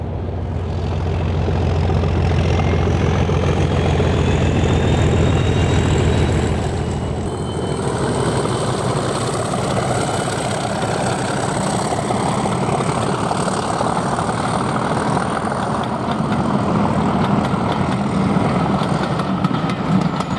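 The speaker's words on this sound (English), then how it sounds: "37263 is opened up as she accelerates away from Bank Farm and heads towards Highley." A Class 37 diesel locomotive, 37263, opens up and accelerates away from Bank Farm toward Highley on the Severn Valley Railway, giving a loud, continuous engine roar and drone that holds steady throughout, with no voices.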